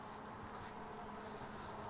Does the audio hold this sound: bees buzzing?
yes